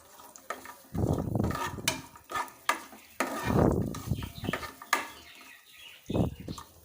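Chana dal and nuts roast in ghee over a slow flame, a spoon scraping and stirring in irregular bursts with light sizzling and occasional clinks against the pan.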